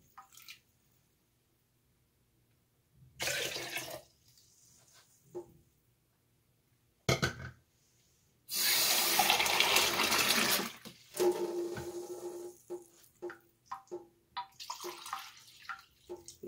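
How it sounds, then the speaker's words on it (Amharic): Water is poured into honey for a Christmas kinito, a homemade barley and honey drink. Splashing bursts of pouring come in short runs with a longer, louder pour near the end, set against a quiet room. "ውሃ ጨምራለሁ።"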